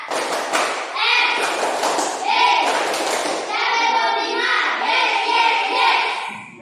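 A class of Indonesian schoolchildren performs the tepuk semangat clapping chant in unison, chanting loudly while clapping and slapping in sharp rhythmic bursts that repeat for several seconds.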